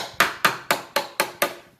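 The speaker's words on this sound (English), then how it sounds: "It's a little hammer with plastic heads on it" A small plastic-headed hammer taps on a Honda water pump carburetor, six evenly spaced, sharp, close knocks in a steady rhythm with no talking.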